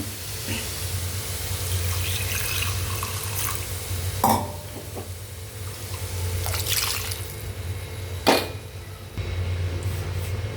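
Running water pours steadily from a tap into a pot while making sambar, with a few brief clinks and splashes over the continuous flow.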